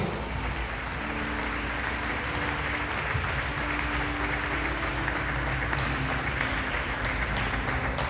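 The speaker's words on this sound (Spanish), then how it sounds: "Denle un aplauso a Cristo." A church congregation claps for Christ during an evening service, dense steady applause filling the whole stretch, loud and continuous, with faint crowd murmur and a low sustained tone underneath.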